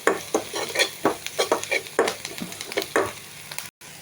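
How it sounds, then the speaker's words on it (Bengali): A spoon scrapes and stirs ground spices such as coriander powder in a frying pan for a Bengali egg dish, in quick rhythmic strokes over a soft sizzle, close and moderately quiet. "অনেক নাড়াচাড়া করে নিব, ভালো করে মিক্স করে নিচ্ছি মশলাগুলো"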